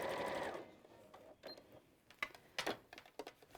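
A domestic sewing machine top stitching around a bag flap with its lining, heard close as a loud steady whirring run that breaks into short bursts of stitching and clicks.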